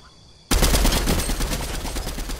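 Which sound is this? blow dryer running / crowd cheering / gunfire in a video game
gunfire in a video game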